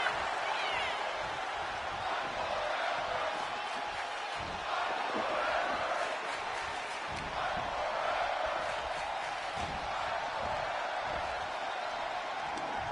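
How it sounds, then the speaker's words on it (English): A wrestling crowd at a pre-show event chants in unison, a dense, steady roar of many voices that fills the whole stretch with a loose rhythmic pulse. "The fight forever chant from the crowd as it's eating it up."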